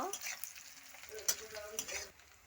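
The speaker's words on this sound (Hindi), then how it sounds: "पियाज टे ब्राउन कलर हवा जाए भाजवा।" Onions frying in a pan until brown sizzle and crackle close up, with stirring scrapes through a short burst that quiets toward the end.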